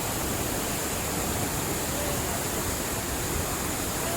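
The Rani Duduma waterfall in Koraput makes a steady, dense roar of rushing water that stays constant throughout, with no voices over it.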